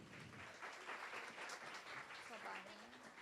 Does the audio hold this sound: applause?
yes